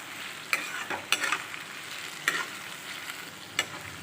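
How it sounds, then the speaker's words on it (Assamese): Oil with sugar sizzles softly in a pan while mutton masala is prepared, a low steady frying hiss broken by a few sharp spoon scrapes and taps against the pan. "এইখিনি ভালদৰে ভাজি ল'ব লাগিব"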